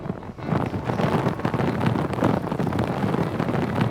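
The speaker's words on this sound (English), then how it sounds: "It's so windy." Strong wind gusting across a coastal sea crag, a steady broadband roar buffeting the microphone throughout, loud and close with no speech.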